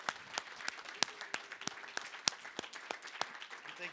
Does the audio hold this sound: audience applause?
yes